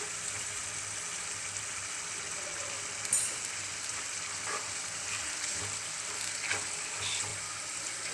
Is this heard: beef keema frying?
yes